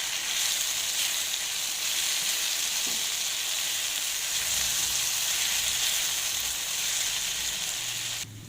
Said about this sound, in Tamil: கிறிஸ்பியாகவும் டேஸ்டியான பாவக்காய் ஃப்ரை ரெடி ஆகிடும்